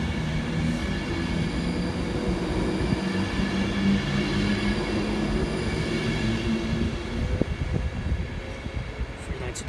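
A London Euston-bound train from Blackpool North rumbles steadily through Wigan North Western station, a constant close mechanical drone with engine tones and brief clanks, heard continuously without pause.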